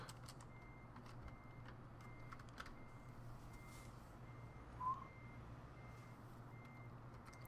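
A truck's reversing alarm beeps steadily while backing up, faint and regular over a low idling engine rumble inside the cab.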